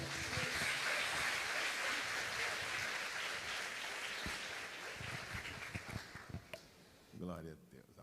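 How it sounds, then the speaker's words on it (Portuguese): A church congregation applauds a visiting pastor in a dense, even wash of clapping that holds for several seconds, thins out near the end and gives way to a voice. "Gostaria que você recebesse com muito carinho e um aplauso o pastor Elson de Assis."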